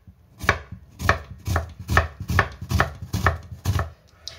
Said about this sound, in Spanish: Empiezo cortando la cebolla en cuadritos pequeños.